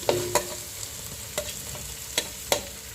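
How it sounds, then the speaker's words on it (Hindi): Cabbage stir-fried in a pan for street-style Schezwan noodles, with sharp clacks of a spatula against the pan at irregular intervals over a steady close sizzle. "इसी के साथ हम डालेंगे ये थोड़ा पत्ता गोभी,"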